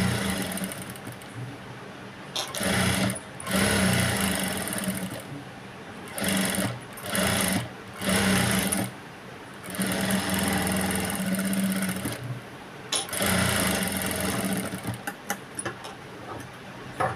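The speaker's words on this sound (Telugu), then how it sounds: "క్లాత్ని అనేది సరి చేసుకుంటూ మనము బ్లౌజ్ అనేది స్టిచ్చింగ్ చేసుకోవాలి" A sewing machine stitches a silk blouse in bursts of fast mechanical whirring, broken by short pauses as the cloth is adjusted, close and steady with no talking.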